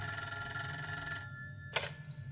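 Telephone ringing in Wayne Manor, an old electric bell trilling steadily nearby, then stopping just before a brief click or rattle.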